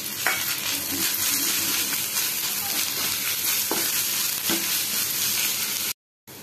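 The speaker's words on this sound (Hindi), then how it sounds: "एथिरे अदा रसुण पेस्ट को देई किछि समय आमे कषि नबा।" Ginger garlic paste sizzles steadily in hot oil as it is sautéed for cauliflower masala, with occasional stirring scrapes over a close, constant crackle before an abrupt cut near the end.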